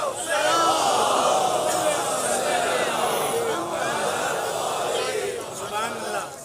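A large crowd at a Muharram majlis in Nishtar Park, Karachi, loudly reciting salawat in unison, a sustained roar of many voices filling the whole stretch before tapering slightly at the end.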